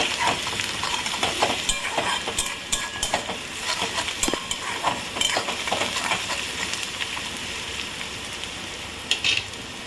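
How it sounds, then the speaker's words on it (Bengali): Onions sizzle steadily in a pan with salt, stirred throughout with scraping and light clinks from a spoon, loud and close with no talking. "পেঁয়াজটা সুন্দর ভাজা ভাজা হয়ে এসছে"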